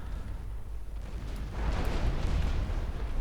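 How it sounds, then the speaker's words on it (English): Torpedoes detonate in the naval strategy game Ultimate Admiral: Dreadnoughts, set in a 1963 Norwegian campaign, a low rumbling blast that swells midway and rolls on as a sustained, muffled boom with no voices. "all the torpedoes have blown up"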